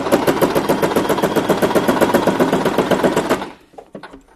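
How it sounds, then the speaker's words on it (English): A sewing machine runs fast and steadily for about three and a half seconds, stitching the seams of a plush fabric pumpkin, loud and close, then stops abruptly. "Either taking your sewing machine or sewing by hand, we're just now going to sew all the way along the lines on all the segments."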